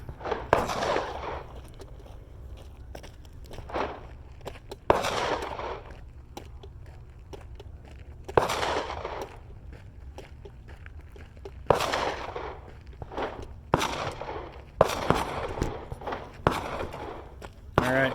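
Pistol shots fired in an FBI qualification drill done at double speed, four rounds standing and four kneeling: sharp cracks in quick clusters with short pauses between, close and loud, with footsteps and movement between volleys.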